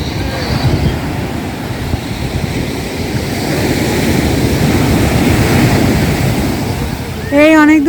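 Ocean surf rolls onto a beach at Puri, a broad, steady wash of breaking waves with wind, ending with a brief high whistle-like sound.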